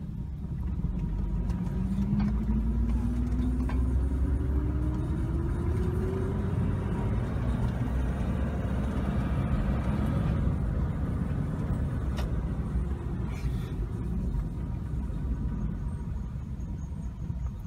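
A 1967 Mercedes-Benz 600 cruising over a bumpy road, heard from inside as a steady low engine and road rumble with a rising engine note, with occasional soft knocks from the bumps.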